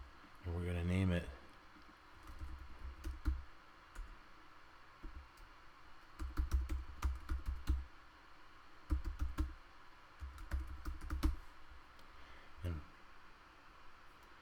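Keys clatter on a computer keyboard in several short bursts of typing, separated by pauses, with a brief voice near the start and light clicks between.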